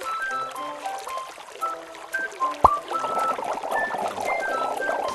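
Water from a faucet pouring into a bathtub during a puppy's bath, a steady splashing trickle that grows fuller toward the end, with a sharp clack midway and faint tones in the background.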